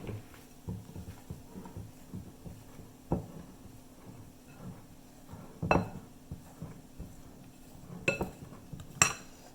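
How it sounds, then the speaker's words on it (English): Butter being blended by hand into self-rising flour in a mixing bowl, heard as repeated soft scraping and clinking of a utensil against the bowl, with a few sharper clanks near the end. "blend this butter into a cup of self-rising flour"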